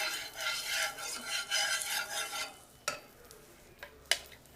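A spicy bread omelette fries in oil in a pan, a close, steady sizzle and scraping stir for a couple of seconds, then quieter with a few sharp utensil clicks and no talking.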